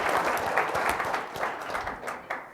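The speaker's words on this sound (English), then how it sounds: "So kind of a round of applause for you guys." An audience at a national security talk gives a short burst of dense applause that rises briefly and then fades.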